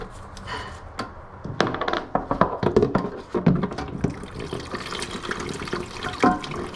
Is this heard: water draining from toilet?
yes